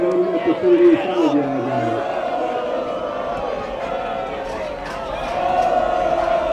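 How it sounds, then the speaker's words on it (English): Crowd at a boys varsity high school football tournament game against Bay Path RVT, a broad steady roar of spectators building and swelling toward the end, with a commentator's voice speaking over it. "As the crowd is getting riled up, trying to stop him here."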